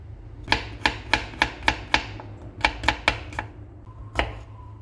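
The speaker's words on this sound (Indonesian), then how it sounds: "Bawang putihnya juga sama, dicincang kasar aja." Garlic is coarsely chopped with a knife on a board: a steady run of crisp, evenly spaced thuds, a brief pause, then a few more close, sharp chops.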